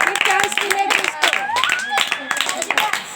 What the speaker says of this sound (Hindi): फिर ताली बजाओ।